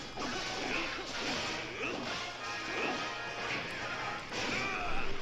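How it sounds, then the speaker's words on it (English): Heavy crashing impacts and swooshes as a giant boss's weak point is smashed in the video game Hyrule Warriors Legends, with repeated thuds and whooshes layered over a dense, steady wash of battle sound and music. "Weak point smashed."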